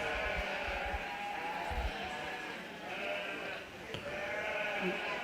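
Blackface ewe lambs bleating in a commercial ewe lamb class at a 4-H/FFA sheep show, with steady, overlapping bleats over a busy show-ring crowd.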